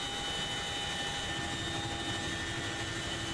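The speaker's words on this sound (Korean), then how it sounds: "시끄러운 엔진음이 600m 상공에 머물자" A loud aircraft engine drones steadily and continuously at 600 m altitude during a special forces parachute jump, a dense unbroken roar with faint tonal whine.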